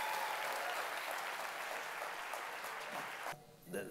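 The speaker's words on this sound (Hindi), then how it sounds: "And I think you should give yourself a hand clap." An audience claps in a dense, sustained round of applause that cuts off abruptly near the end.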